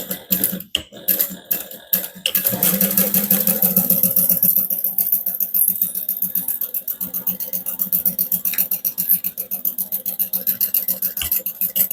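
A sewing machine bastes a pocket onto a bag exterior with a 1/8 inch seam allowance: a few clunks, then steady rapid stitching pulses running close and continuous.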